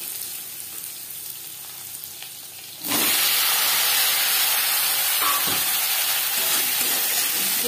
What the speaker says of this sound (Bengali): দশ 15 সেকেন্ড জিরে ভেজে নেওয়ার পর দিয়ে দেব টুকরো করে কেটে রাখা আলু।